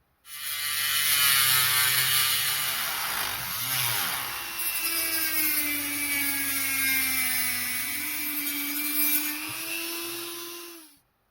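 A power tool cuts an acrylic sheet into a circle, making a loud, continuous high whine with a rattling, grinding edge that wavers in pitch for about ten seconds before stopping.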